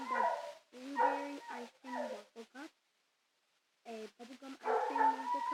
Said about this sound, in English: that's my dog barking because nobody's in there.